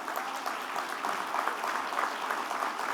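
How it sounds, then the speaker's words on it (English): Staff and audience applaud at a service excellence awards ceremony, a steady, dense wash of clapping from a large crowd that holds evenly throughout without voices. "I'd ask all the staff to stand right now for a round of applause"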